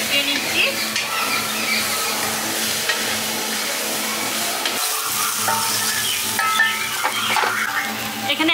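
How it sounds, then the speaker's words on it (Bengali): Mixed vegetables with ginger paste stir-fry in a pan for a village-style labra, a loud continuous sizzle with frequent spatula scrapes and clinks against the metal, close and steady throughout without talk. "ভালো করে একটু সবজিগুলোর সঙ্গে কষিয়ে নিচ্ছি।"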